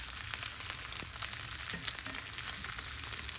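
Steak frying in a pan, a dense continuous sizzle with crackling spatter, close and steady with no voices.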